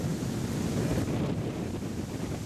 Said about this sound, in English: Can you feel that wind?